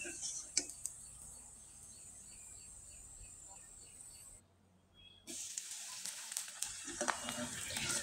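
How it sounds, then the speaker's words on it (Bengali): Chana dal pitha fry in hot oil with a soft, steady sizzle and faint crackles, low and close, broken by a brief near-silent gap before the hiss resumes louder. "আমি আপনাদের কয়েকটা পিঠা তেলে ভেজে দেখিয়ে দিলাম।"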